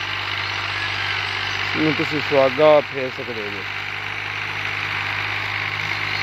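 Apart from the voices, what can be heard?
Fiat 480 tractor engine running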